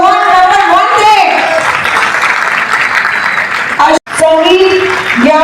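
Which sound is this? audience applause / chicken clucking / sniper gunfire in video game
audience applause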